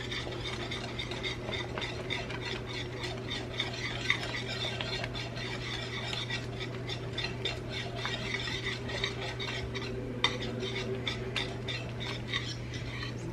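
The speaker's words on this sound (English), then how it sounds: "Stir this all up." Food being stirred in a pot while cooking a cheesy dinner at home, a steady scraping and rubbing of a utensil against the pot over a constant low hum, with no talk.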